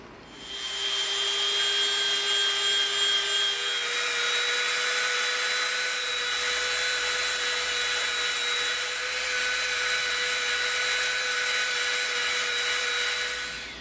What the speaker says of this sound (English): we're going to Dremel from this line to this line and from this line to this line